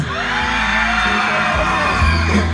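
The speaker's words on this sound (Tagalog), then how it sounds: "mas malakas na sigawan" At an outdoor concert in Peñaranda, Nueva Ecija, the audience shouts and cheers in a loud, continuous roar of whoops and yells, with a low thump near the end.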